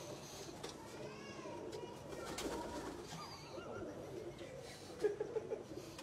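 Taddy breeder pigeons coo softly in a loft, low murmuring calls running steadily beneath a busy background of rustling and faint voices.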